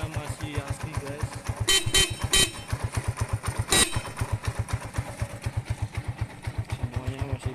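A stock-exhaust 2005 Honda Megapro motorcycle idles close by with a steady, rapid thump, while its original horn sounds in several short honks near the middle.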